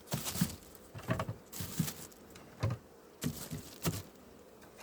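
Bees buzz around an apiary hive during autumn work, with a low drone broken by a run of soft, evenly spaced taps or knocks close by.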